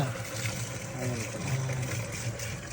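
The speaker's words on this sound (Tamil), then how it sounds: "5 rupees காயின் போட்டால் 30 செகண்ட் ஓடுமா. அதில் இந்த கேனு ஃபுல்லாகிடுமா." A coin-operated drinking water machine in Bangalore runs water into a can, making a faint, steady pouring and hum with a soft voice in the background.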